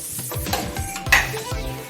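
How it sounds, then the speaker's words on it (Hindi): A small tadka pan is set among metal pots and bowls in a kitchen trolley, giving several close clanks and clinks of metal cookware shifting against each other. "अब ये जो मेरा तड़का पैन है उसको भी मैं इस तरह से इधर"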